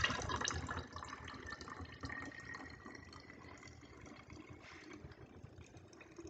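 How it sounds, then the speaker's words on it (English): Water pours steadily into a container, a soft continuous splashing and trickle heard up close and fairly quiet. "I'm going to fill up the rest of it with water."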